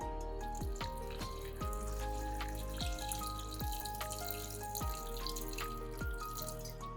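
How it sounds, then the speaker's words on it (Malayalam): Water runs steadily into a pot of Kerala-style sardine curry, a continuous splashing pour with a few soft clinks and knocks breaking through at regular intervals. "ആവശ്യത്തിന് വെള്ളം."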